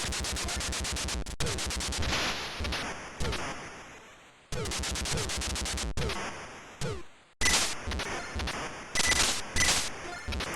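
Rapid bursts of gunfire and explosions from the Atari ST arcade shooter Operation Thunderbolt, loud and dense, with repeated volleys broken by short pauses.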